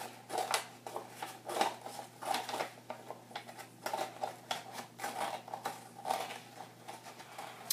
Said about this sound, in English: then I'll use my scissors to trim off the edges